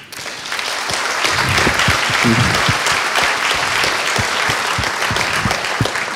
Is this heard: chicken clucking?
no